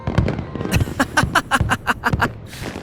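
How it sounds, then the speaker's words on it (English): Festival fireworks burst in the MapleStory video game, about a dozen sharp crackling pops in a quick, fairly even rhythm, loud and close with no talk. "those are fireworks from the festival"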